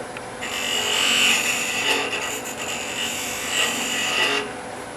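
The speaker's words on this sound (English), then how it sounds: "You guys like my roughing gouge?" A roughing gouge cuts a wooden acorn-box blank spinning on a lathe, a steady rasping scrape that rises and falls as the tool moves, close and continuous for several seconds before it stops.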